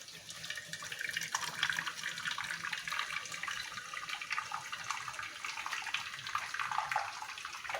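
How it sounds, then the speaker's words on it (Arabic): Boiling water poured into a tray for homemade yogurt, a steady close splashing stream running continuously throughout. "وهنحط هنا اهو كده ميه مغليه كده"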